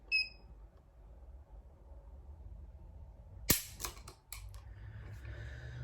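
A Taurus Judge Executive Grade revolver has its trigger pulled in single action: after quiet handling, one sharp metallic click, followed by a few smaller clicks and some rustling.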